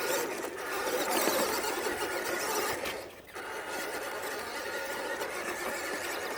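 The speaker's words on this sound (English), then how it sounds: "We got the 260 motor and gearbox put in it." A WPL B36 RC truck fitted with a 260 motor and gearbox runs on a 3S lipo, giving a steady high electric whine and gear squeal that dips briefly midway.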